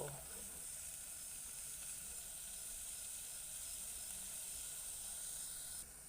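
Bamboo shoots dry-roasting in a pan produce a steady, faint high hiss and sizzle that holds evenly for several seconds with no talking.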